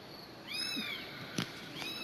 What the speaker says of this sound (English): you can hear the kitten crying as its mother carried it